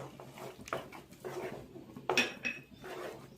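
A spoon stirs kesari bath, a semolina sweet with cashews and raisins, in a pan, giving soft scraping and occasional clinks of metal, up close and quiet.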